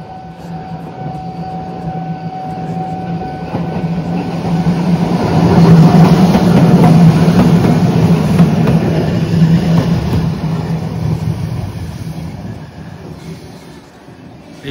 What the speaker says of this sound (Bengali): এখানে একটা ছোট্ট ট্রেন, তাও ইলেকট্রিক, দেখুন ওপরে প্যান্টোগ্রাফ রয়েছে, এক কামরার একটা ছোট্ট ট্রেন।